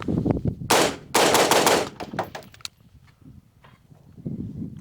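A Global Ordnance Monolith rifle fires in a quick loud burst of shots with a brief gap between volleys, followed by fainter metallic clatter and handling noise.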